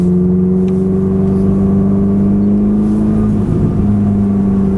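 A Ferrari F430 engine pulls steadily under acceleration on a driving course, a loud, continuous mid-pitched drone that holds close and alone throughout.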